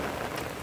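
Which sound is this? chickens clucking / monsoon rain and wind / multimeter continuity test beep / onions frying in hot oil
monsoon rain and wind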